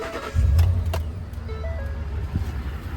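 Engine and drivetrain of a 2010 Ford F-150 Raptor pickup, a steady low rumble with a brief swell near the start, then an even hum with faint higher tones.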